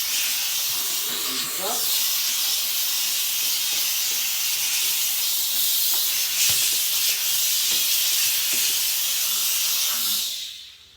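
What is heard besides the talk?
Wagner Spraytech 915e steam cleaner hissing steam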